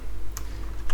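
A handful of crisp keystrokes on a computer keyboard as a command is entered in a command prompt during a Windows 11 install in VirtualBox, a few isolated clicks and then a quick cluster at the end.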